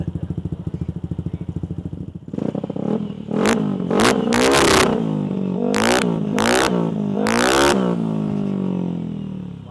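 A cold Yamaha Aerox motorcycle engine idles with a rough, rapid pulse, then gets blipped through a series of sharp, loud revs that rise and fall in quick succession, close up, with no talking.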